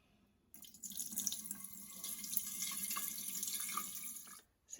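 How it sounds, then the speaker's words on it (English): 600 grams of water pours steadily into a mixing bowl for a few seconds, a soft, even splashing rush that starts abruptly and stops near the end. "Put in 600 grams of water."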